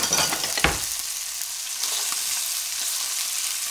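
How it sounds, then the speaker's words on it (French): Shallot and carrot frying in a pan, a steady close sizzle with a brief stirring clatter as the vegetables are added at the start, then continuous hissing. "on va ajouter notre garniture aromatique, l'échalote"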